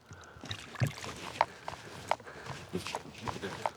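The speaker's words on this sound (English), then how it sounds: "Wading pretty deep here now." Wading through deep sea water while fly fishing for sea trout off the chalk coast at Møns Klint, Denmark, with repeated splashing and sloshing of water around the legs at close range.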